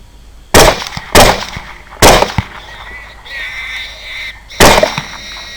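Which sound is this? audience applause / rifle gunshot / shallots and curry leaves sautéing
rifle gunshot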